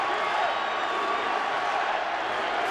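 A packed crowd of over 38,000 at Angel Stadium during a World Baseball Classic game between the USA and Mexico, producing a steady, dense roar of cheering that stays loud and even throughout.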